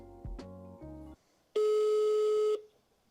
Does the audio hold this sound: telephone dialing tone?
yes